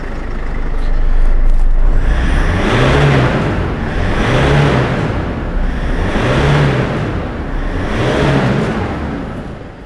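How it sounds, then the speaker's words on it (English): A Ford Ranger 3.0 diesel engine blowing black smoke revs up and down in four repeated surges, loud and close, rumbling between each push of the throttle. "I'm gonna go and rev the car"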